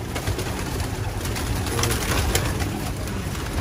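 Young pigeons coo inside a loft, soft repeated murmuring calls over a constant noisy background, with no talking.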